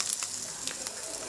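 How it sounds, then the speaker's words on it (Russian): Turkey fries in a pan with a steady soft sizzle and scattered crackling pops, moderately close and with no talk over it. "Что у нас тут жарится? Индейка."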